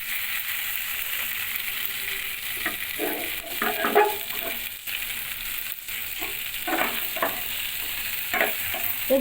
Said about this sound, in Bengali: এখন শুধু মশলার সাথে ভালো করে মিক্স করব।